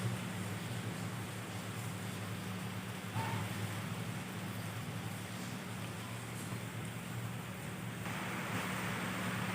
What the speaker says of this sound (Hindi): क्योंकि बारिश का मौसम है, तो बारिश बहुत तेज़ हो रही है।